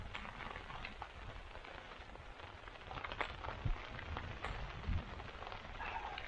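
Steady rain falls over a bike campsite in wet, windy weather, a dense even patter with a few louder drops and thumps, with no talk.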